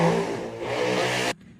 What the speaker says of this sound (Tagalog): Di ba bawal na yung ganyang kaingay na tambutso?